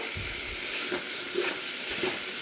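Medium-cut cabbage fries in a pan with a soft, even sizzle, while a spatula stirs and taps lightly against the metal every half second or so.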